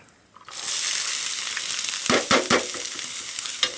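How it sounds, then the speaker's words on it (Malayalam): Chopped onions hit hot oil in a pan and burst into a loud, steady sizzle that carries on throughout, with a few sharper crackles and stirring clatters partway through. "അപ്പോൾ എണ്ണ നന്നായിട്ട് ചൂടായി വരുന്നുണ്ട് കേട്ടോ. അപ്പോൾ നമുക്ക് ഇതിലോട്ട് ഉള്ളി ഇട്ട് കൊടുക്കാം."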